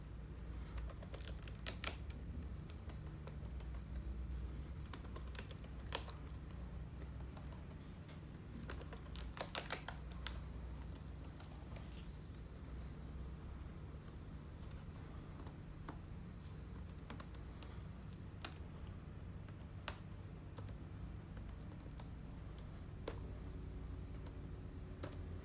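Keys pressed one after another on an Asus TUF Gaming F705G laptop keyboard, scattered quiet clicks and taps at an uneven pace over a low background hum, with no talking.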